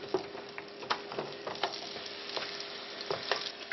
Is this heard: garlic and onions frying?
yes